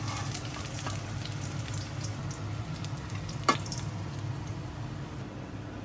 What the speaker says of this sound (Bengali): সরিষার তেলটা বাজলে এরকম তাড়াতাড়ি ভাজা হয়ে যায়।